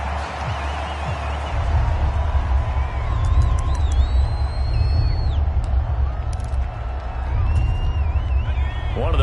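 A steady, broad crowd roar swells through a stadium in a PS4 American football video game as a big third down approaches, holding at an even level for the whole stretch with faint whistling tones on top.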